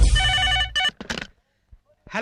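A telephone rings with a loud electronic ringtone in repeated bursts at the start of a phone call, followed by a short gap of silence and then a voice speaking.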